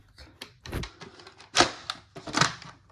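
A Dyson V15 cordless vacuum is slotted into its dock, giving a series of plastic clacks and knocks, with two sharper clicks standing out, close and fairly quiet.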